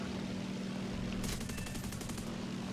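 A rapid burst of 12.7 mm machine gun fire from a Ki-44-II Otsu fighter in War Thunder rattles for about a second over a constant droning aircraft engine.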